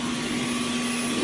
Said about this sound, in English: This vacuum cleaner, I've had it for 3 years.